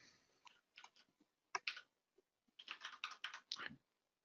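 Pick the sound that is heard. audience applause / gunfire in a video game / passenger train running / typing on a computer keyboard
typing on a computer keyboard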